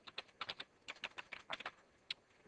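Quiet, rapid keystrokes on a computer keyboard as router BGP commands are entered, an uneven run of light clicks lasting a couple of seconds, with no voice.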